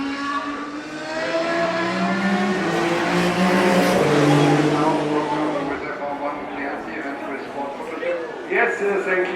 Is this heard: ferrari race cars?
yes